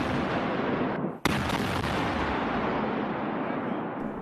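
A single sharp blank-round shot rings out during a NATO military exercise in Estonia, standing alone against a steady, loud outdoor rumble of wind and field noise.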